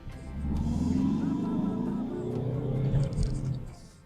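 Peugeot Expert Sport van accelerating from a standstill in manual paddle-shift mode, a rising engine drone heard from inside the cabin, steady and moderately loud, with speech over it.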